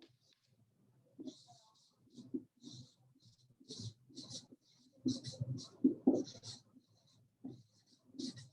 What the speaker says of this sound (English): I'm going to write on the board so you can see it also